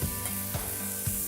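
Chicken searing in a hot cast iron pan, a continuous hiss of frying with low scraping or stirring strokes recurring about every half second, close and moderately loud.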